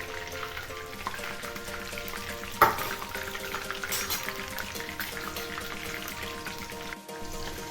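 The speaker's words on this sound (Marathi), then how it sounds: "आपण दुसरे राहिलेलं पण चिकन आहे फ्राय करायचं, ते फ्राय करून घेऊया" Chicken frying in a pan gives a steady, close sizzle with soft bubbling and spattering, a brief clatter partway through and no talking.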